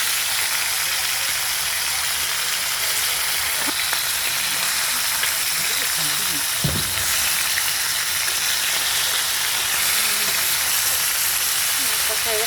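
Bhola fish sizzles loudly in a frying pan with a constant close hiss, while a few thumps and scrapes mark the fish being turned over partway through.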